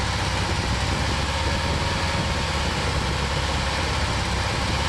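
A Volkswagen T3 van engine idles steadily with a fault in its O2 sensor wiring, giving a close, continuous low rumble at an even pitch with no talk over it.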